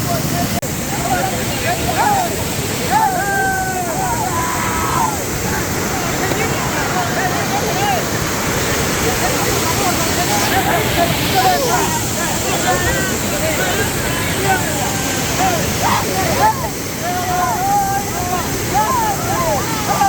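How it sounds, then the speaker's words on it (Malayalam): Steady roar of rushing water at Athirappilly Waterfalls fills the whole stretch, loud and continuous with wind buffeting the microphone, while people talk and call out over it. "അപ്പോ നമ്മള് അതിരപ്പുള്ളി വാട്ടർഫോൾസിന്റെ വെള്ളച്ചാട്ടത്തിന്റെ അരിയത്തുള്ള വെള്ളത്തിൽ കളിച്ചു"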